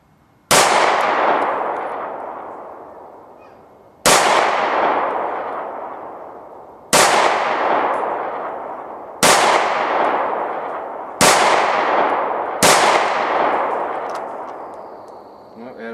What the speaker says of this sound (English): We're shooting about 15 yards.